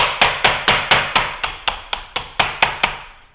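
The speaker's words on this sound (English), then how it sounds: "very easily tap pins into place and it won't even scratch it" Sharp metallic taps from a flash hider driving pins into a VFC MK17 SCAR H gun, about a dozen evenly spaced close strikes, loud and alone.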